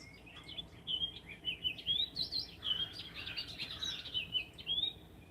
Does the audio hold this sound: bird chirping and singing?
yes